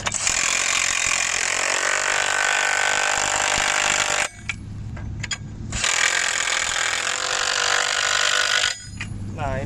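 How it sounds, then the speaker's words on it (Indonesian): A power drill bores into a solar panel bracket at an Australian solar farm in two loud close bursts of high whining grind, separated by a pause where a voice talks over background noise. "Nah, sekarang tinggal kita drill."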